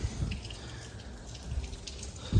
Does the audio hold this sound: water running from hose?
yes